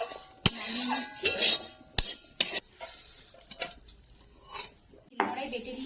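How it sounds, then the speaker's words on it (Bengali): Fried bottle gourd leaves and garlic being ground by hand into a dry paste: rough scraping strokes at close range, broken up by sharp knocks and clinks, with quieter gaps between bursts. "কড়াই বেটে দিচ্ছি, আপনারা চাইলে মিক্সিতেও বাটতে পারেন।"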